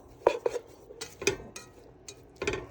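A spoon clinks and scrapes in a pot while chili seasoning is stirred into drained ground meat and vegetables, making a few scattered metallic taps and scrapes, close and unaccompanied by talk.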